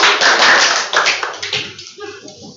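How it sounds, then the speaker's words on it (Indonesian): A classroom of students claps hands together in a brief burst of rapid, overlapping applause that tapers off into scattered claps within a couple of seconds. "Tepuk tangan tuh kita semua."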